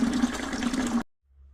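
Running water pours and rinses through a rusty 1984 Yamaha Virago motorcycle fuel tank, a steady close gush for about a second before cutting off to near silence.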